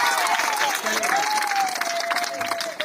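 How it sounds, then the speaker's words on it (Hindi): A studio audience at a Hindi quiz-show-style event bursts into loud applause with some cheering, dense sustained clapping from a crowd for about three seconds. "एक बार जोरदार ताली बजाए,"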